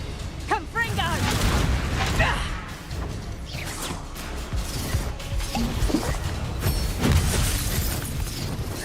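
A Confringo fire spell explodes during combat in Hogwarts Legacy, with whooshes, booms and crashes layered over a busy game soundscape and character voices.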